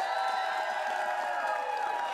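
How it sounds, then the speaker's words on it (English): Steady crowd noise from an audience at an improv comedy show, a dense wash of applause with cheering mixed in, holding at an even level without a break. "let's get that round of applause going, everybody"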